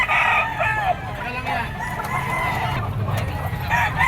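A yellow-legged peacock gamefowl rooster crows loudly nearby, its drawn-out call followed by clucking, with market chatter in the background.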